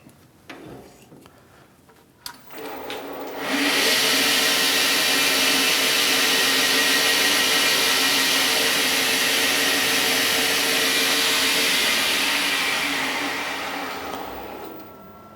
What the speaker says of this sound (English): just going to do a little bit of cleanup on this head with Scotch-Brite